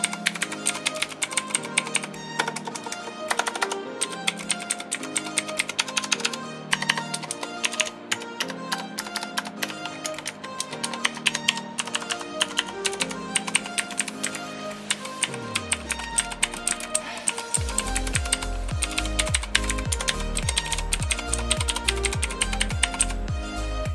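Keys on a Redragon K585 Diti gaming keypad being typed on in steady, rapid clicking bursts, loud and close, with no talk over them.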